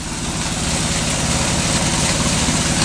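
A hot rod 1945 Harley motorcycle engine with roughly 6.5 to 1 compression runs steadily at a loud, close idle, a dense continuous rumble without pauses or voices.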